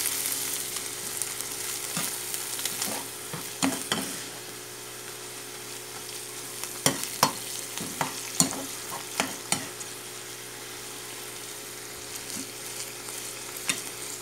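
Ground beef frying with miso in a pan, stirred to dissolve the miso: a constant low sizzle runs throughout while a spoon scrapes and taps the pan in irregular bursts, clearest in the middle stretch, with no talking.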